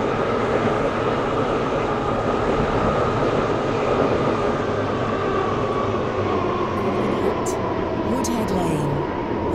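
A Class 720 train runs steadily in the Stepford County Railway video game, a constant rolling rumble and hum with a few faint high clicks near the end.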